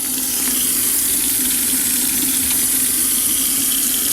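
Hot tap water pours steadily into a sink to rinse a wig, a continuous loud hiss and splash with no pauses, close by.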